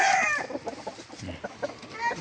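A chicken clucks nearby in a series of short, uneven bursts, several clucks over a couple of seconds; a large ornamental-breed rooster.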